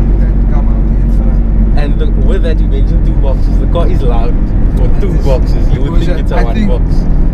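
A Toyota AE82 with a stock two-box exhaust and PVC induction setup runs with a loud, steady engine drone throughout, while people talk over it.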